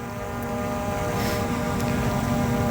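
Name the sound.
quadcopter drone propellers buzzing while rotating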